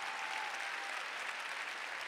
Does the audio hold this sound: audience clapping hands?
yes